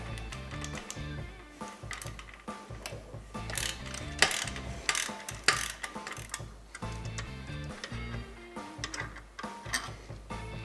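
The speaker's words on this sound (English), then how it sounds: "remove the flange bolt on the stock muffler clamp right here using a 12mm socket" A ratchet with a 12mm socket clicks in quick, uneven runs while loosening the flange bolt on a stock motorcycle muffler clamp, close and fairly quiet with no talking.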